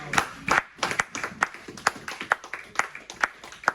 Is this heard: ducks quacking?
no